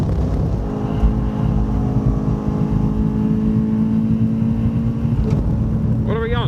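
Race car in-car engine noise at Phillip Island, a steady loud drone with harmonic whine as the car powers out of the turn 2 apex, a brief higher rising tone near the end.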